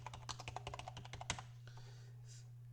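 A computer keyboard clacks as an identity card number is entered, a quick, uneven run of close key presses over a low steady hum, then quieter.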